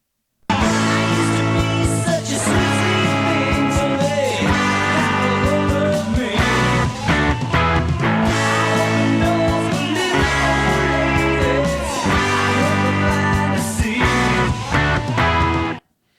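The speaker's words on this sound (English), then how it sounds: "Next is the verse, and it sounds like this." Verse of a rock song, full band with guitars, bass, drums and vocals playing loud and steady throughout, with no talk over it.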